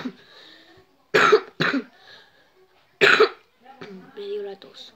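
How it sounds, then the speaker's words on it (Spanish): Several short, harsh coughs in two bursts, close by, with quiet speech before and after. "Me dio la tos."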